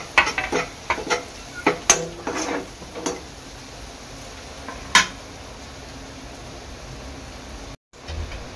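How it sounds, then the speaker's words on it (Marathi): Garlic, ginger and chilli being stir-fried in a pan, with a soft sizzle and a series of spatula scrapes and clinks against the metal in the first few seconds, then a quieter steady sizzle. "लसूण, अद्रक, चांगलं परतून घ्यायचं आहे। त्यामध्ये टाकणार आहे मिरची,"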